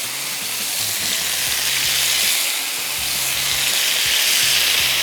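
Beef brochette skewers sizzle and fry steadily in hot oil in a home kitchen, a loud, continuous crackling hiss with no voices over it.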